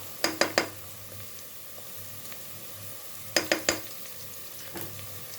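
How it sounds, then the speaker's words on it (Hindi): Onion, whole cumin and ginger garlic paste sauté in a pan under a soft, steady sizzle, with two quick clusters of three sharp spoon-on-pan knocks, close but fairly quiet, and no voices. "और इसे हमने हल्का सा सौते करना है।"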